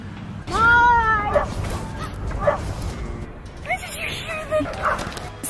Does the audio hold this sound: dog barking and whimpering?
yes